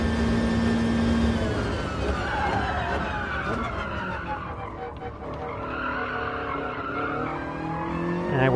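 Race car cornering hard in Gran Turismo Sport, a Toyota in the FIA Manufacturer Series, with a steady loud engine note and tire skid throughout, no talking.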